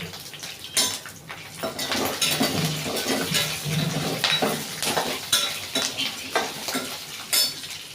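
Spoon stirring fried peanuts, green chillies and coconut in a pan for coconut chutney, with repeated scraping clinks against the metal and a soft sizzle beneath, close and rhythmic.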